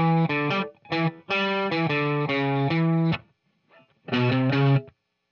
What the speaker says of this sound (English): I like to add a little bit of distortion just to get a cool tone to it